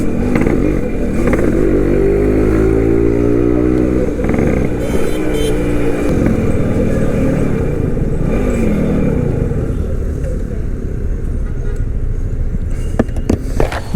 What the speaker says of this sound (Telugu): ఇదేంది ఊరికి ఆగిపోయి జమ్మని పోతుంది బండి.